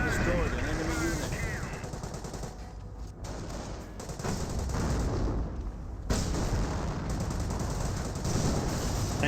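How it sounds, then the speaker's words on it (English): Dense battle noise from the video game Company of Heroes, with tank gunfire from a Firefly among repeated booming shots and rattling fire under a continuous roar, loud and close. "Firefly taking shots."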